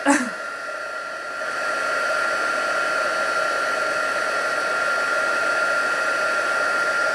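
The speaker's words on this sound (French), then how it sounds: "je vais prendre mon pistolet chauffant pour embosser." A heat gun used for embossing blows a loud, steady airy roar with a high whine, starting abruptly after a brief click and running continuously.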